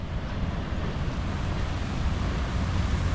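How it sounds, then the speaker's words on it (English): Water runs along a log flume ride, a steady, even rushing wash that fills the whole moment with no breaks, heard from nearby outdoors. "They have the water running on the log ride."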